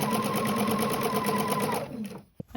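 A sewing machine stitches the corners of a quilt block in a fast, steady whir close by, then slows and stops near the end with a couple of small clicks.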